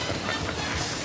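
A train in a Ghostbusters slot-style video game rumbles with a continuous rolling clatter and hiss, loud and steady from start to finish, with no voices.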